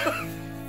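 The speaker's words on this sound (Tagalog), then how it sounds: "Ubo." A single short cough bursts out at the start, then fades into a low steady hum for the rest of the moment.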